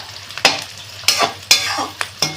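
Onions frying into crisp beresta for egg-chicken biryani, stirred in hot oil with several loud scraping strokes in a loose rhythm over a sizzle, close up, no one speaking.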